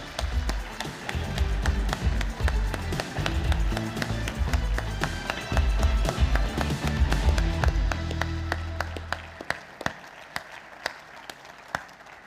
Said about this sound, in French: Vos applaudissements pour eux, s'il vous plaît.